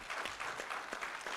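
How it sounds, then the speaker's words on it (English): A short burst of dense audience hand clapping at a forum on Uganda's mining, oil and gas sector, steady and moderately loud with no speech over it. "Can we give him a better hand clap?"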